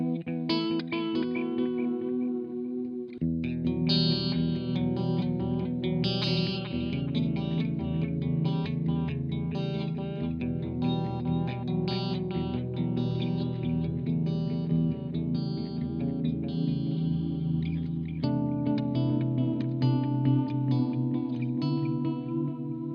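Electric guitar played through a Carl Martin Red Repeat delay pedal, sustained warm chords and picked notes with repeating echoes and a thick, chorused wash, continuous and fairly loud with no talking.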